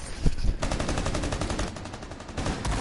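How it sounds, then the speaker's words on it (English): Shotgun fire tearing up a floor in a PS4 first-person shooter, heard as a continuous, loud rattle of rapid shots and debris spanning nearly three seconds. "Now the Jackal also with his shotgun will just start opening, ripping up the floor."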